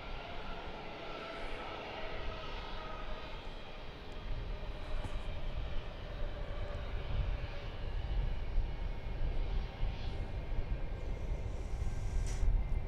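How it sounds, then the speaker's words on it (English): American Airlines Airbus A321 jet bound for San Antonio at Dallas Fort Worth airport, a steady broad engine roar holding at moderate distance and building slightly, with no voices. "This is American 2759. It's an Airbus A321."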